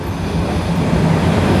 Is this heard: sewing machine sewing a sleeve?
no